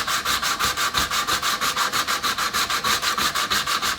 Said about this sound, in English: we start out with a little WD-40, a little bit of oil. That helps lubricate the sandpaper, the metal